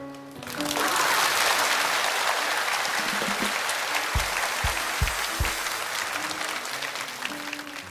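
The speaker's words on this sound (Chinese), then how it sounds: "谁刚才带头鼓掌的？" Sustained audience applause at a televised university lecture, a dense, steady clapping that swells within the first second and carries on throughout, with a few deeper thumps near the end.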